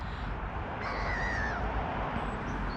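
A gull, likely a storm gull or silver gull, calls once on an open field, a faint wavering cry standing out above steady background noise.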